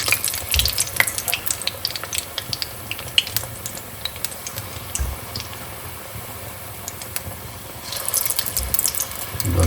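Jaggery gulgule batter fries slowly in a pan of oil over low gas, giving a steady soft sizzle with scattered crackles and pops that grow busier near the end.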